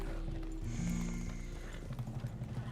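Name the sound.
horse in video game Red Dead Redemption 2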